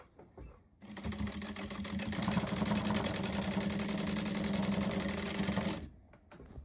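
A sewing machine stitches the side seams of a quilted coat in one steady, fast run of needle clatter lasting about five seconds, starting and stopping abruptly in a quiet room.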